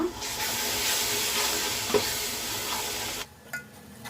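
Salt being stirred into simmering masala for mutton biryani in a pan, a steady close sizzle with a scraping stir, quieting near the end.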